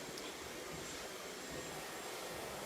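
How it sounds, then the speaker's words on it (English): A hair dryer blows a steady, broadband airy roar throughout, continuous and even without any pauses, at a salon styling session. "Amazing hairdryer. Nice and straight out."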